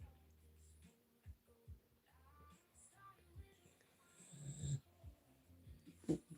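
A person imitates snoring with a series of rough, rasping snorts and wheezy breaths, loud and close, building toward a harsh snort near the end, with no speech.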